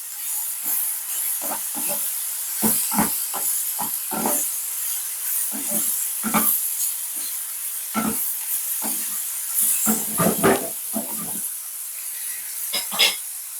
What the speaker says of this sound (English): At this point, I'm going to add some butter in.